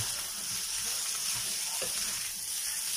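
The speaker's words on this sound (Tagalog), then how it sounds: "Baka masunog pa yung bawang eh. Tapos, haluin siya agad." Garlic rice frying and being stirred in a pan, a continuous bright sizzle with soft scraping stir strokes, close and fairly loud.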